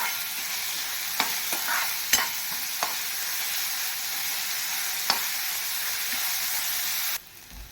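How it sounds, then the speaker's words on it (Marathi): Chopped onion sizzles steadily in hot oil in a pan for an oyster masala, with a few sharp clinks of a spoon against the pan before the frying sound cuts off abruptly near the end. "कांदा घालून घेते आणि रंग बदलेपर्यंत कांदा आपण तेलावर परतून घेऊया"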